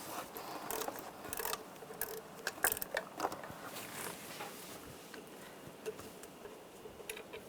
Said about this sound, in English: Now take this bolt off. Use a 12mm socket.